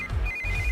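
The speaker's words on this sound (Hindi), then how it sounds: "इस वक्त दीदी का फोन।" Telephone ringtone in a Hindi-dubbed drama scene, a steady electronic tone repeating through the short clip over low background rumble, with no talking.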